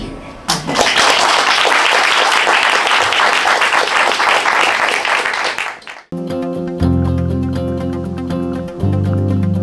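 Audience applause fills the first six seconds, loud and sustained, then breaks off abruptly and gives way to music.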